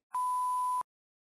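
A single steady censor bleep, a pure electronic tone lasting under a second, starts and stops abruptly and is followed by silence.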